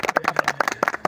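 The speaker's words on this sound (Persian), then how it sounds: "با یه تشویقی گرم کنین خودتون" A short burst of audience clapping, rapid individual claps close together and fairly loud, lasting about a second.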